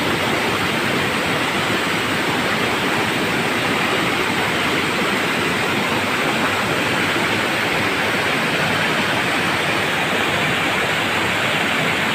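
A steady, loud roar of the Lidangi waterfall fills the whole stretch, broadband and unbroken, with no voices over it.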